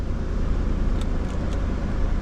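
A V8 car engine idles steadily after being started, a close, continuous low rumble with no voices.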